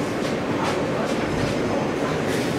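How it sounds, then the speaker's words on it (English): A New York subway L train rides through Brooklyn. Its loud, steady rumble and rattling clatter continue without a break. "Only in Brooklyn on the L train."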